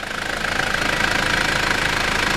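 A 2000 Mitsubishi Delica turbo diesel 4x4 minivan engine runs steadily with a rattly, knocking diesel clatter and a droning hum, loud and close, with no voices.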